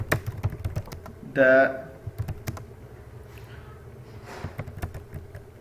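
Computer keyboard typing while code is written, a run of soft, irregular key clicks at close range with someone talking over parts of it.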